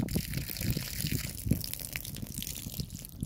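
Water gushes from a hose fed by a weak pump, a continuous splashing, sputtering flow with irregular surges, heard close and fairly loud.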